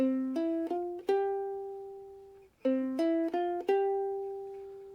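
A ukulele plays a short plucked melody, single notes ringing out, the same four-note phrase repeated twice with a pause between.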